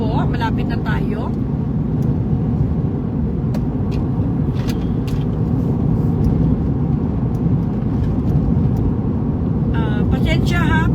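A car cruises along a road with a steady, loud engine and tyre rumble throughout, and a person talks over it now and then.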